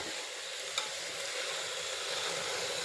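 Rice is gently mixed and sautéed in masala for masale bhaat, a faint steady sizzle with soft stirring scrapes and one small clink, no talk.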